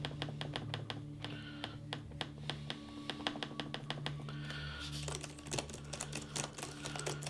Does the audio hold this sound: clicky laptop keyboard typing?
yes